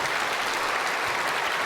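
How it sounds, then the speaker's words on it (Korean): Steady, dense applause from a church congregation during a sermon, a continuous wash of many hands clapping at even loudness with no talk over it. "이 박수 한번 쳐야 되지 않아요?"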